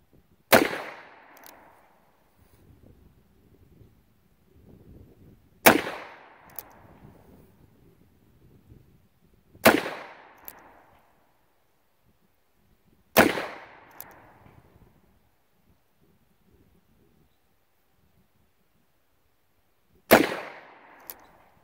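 A Pietta 1873 Colt clone single-action revolver chambered for .45 ACP fires five loud, sharp shots spaced several seconds apart, each with a short echoing tail and faint handling noise between shots.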